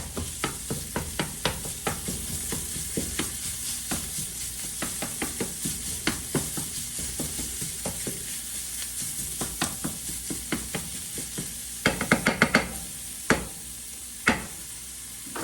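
Sausage sizzles in a pan while a utensil chops and breaks it up, making a rapid run of sharp scraping taps over steady frying, with a louder burst of clatter near the end.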